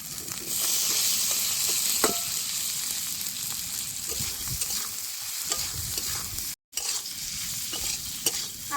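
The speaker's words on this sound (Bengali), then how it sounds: "আলু আর মশলা বেশ ভালো করে কষাই নিছি" Potatoes and spices stir-fry in hot oil in a village kitchen, a continuous loud sizzle broken by scraping stirs and a brief pause, close up and with no talking.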